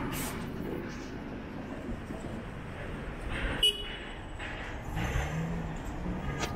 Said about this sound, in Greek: Το τραμ.